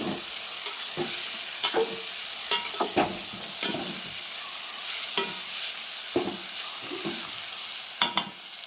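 Chili masala powder fries in hot oil with onion and tomato while a spoon scrapes the pan in steady strokes about once a second over a constant close sizzle.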